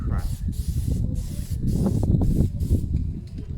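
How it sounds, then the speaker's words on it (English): Close, continuous hissing bursts from a Plasti Dip aerosol can coating Suzuki Bandit motorcycle parts, with breaks between sprays and a voice talking underneath. "This stuff sprays like crap."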